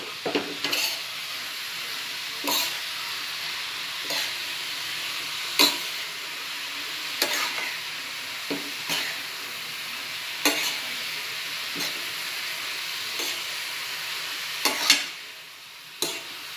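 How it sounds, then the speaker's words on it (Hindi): Fenugreek greens frying with onions in a pan are stirred steadily, with a constant sizzle and repeated scraping knocks of the spoon against the pan, close and fairly loud throughout. "हम ये भाजी हिलाते जाएंगे और थोड़ी थोड़ी डालेंगे"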